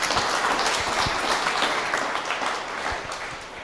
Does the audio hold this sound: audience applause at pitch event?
yes